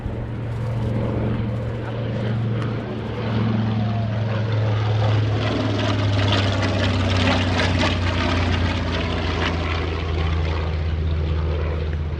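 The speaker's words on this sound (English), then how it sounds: "This was a carrier-based aircraft built originally by Grumman" A Grumman TBM Avenger, a carrier-based propeller aircraft, flying past at the 2017 Greenwood Lake airshow, a loud droning engine hum with a shifting pitch as it passes, with an announcer speaking over it.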